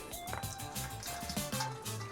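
Hot water running into a leaky Mercedes-Benz W124 300D fuel tank during cleaning, a close, steady splashing and gurgling pour lasting a couple of seconds with no voices.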